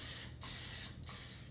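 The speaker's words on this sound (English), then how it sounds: "we're going to spray this muffin tin with some non-stick" Non-stick cooking spray hisses from an aerosol can onto a muffin tin in three steady bursts with brief pauses between them, close and loud.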